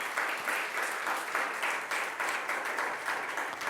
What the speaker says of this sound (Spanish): Dele ofrenda de palmas al Señor